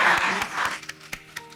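An audience at a church gathering applauds, a brief burst of clapping that quickly thins out into a few scattered, separate claps.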